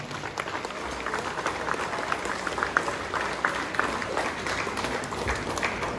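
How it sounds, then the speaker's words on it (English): Graduates at a college commencement ceremony stand and give their parents a warm round of applause, a steady wash of many hands clapping in a large hall. "let us all stand and salute our parents by giving them a warm round of applause"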